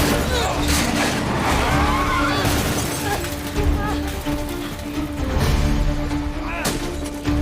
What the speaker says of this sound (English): We try to escape, but things go bad fast and we end up crashing.